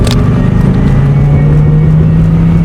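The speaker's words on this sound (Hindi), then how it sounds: "तभी किसी गाड़ी की आने का आवाज आता है" A vehicle engine drones steadily as it pulls closer, a low hum slowly climbing in pitch, used as an effect in an animated horror cartoon with no voices over it.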